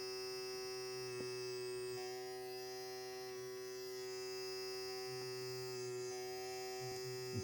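A cordless vacuum diamond painting pen from MyCraftClub runs with a steady, faint electric motor hum and buzz, constant and unbroken throughout, with a few small clicks.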